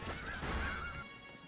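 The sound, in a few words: fowl calls in a video game, Pokémon The Indigo Disk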